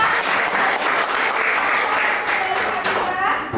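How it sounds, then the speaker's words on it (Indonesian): Steady applause from a crowd, dense and continuous clapping at moderate loudness with a few voices mixed in. "beri tepuk tangan untuk Kak Disa."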